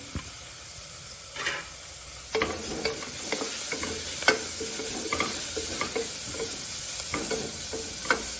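Finely chopped fenugreek leaves frying with ginger-garlic paste in a pan for a cabbage dish, a continuous close sizzle with scattered clinks and scrapes of stirring.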